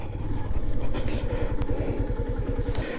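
A motorbike struggles for grip on slippery mountain ground, its engine close and loud, throbbing in rapid, uneven pulses as it labours without moving freely.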